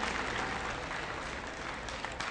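Sustained applause from an audience at a high school award ceremony, a steady, even wash of many hands clapping throughout, with no voices standing out.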